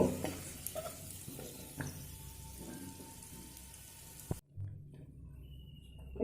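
Cashews, nuts and raisins sizzle in hot oil for a poha pulao, a steady crackling fry with stirring scrapes, briefly cut off near the end before resuming more faintly.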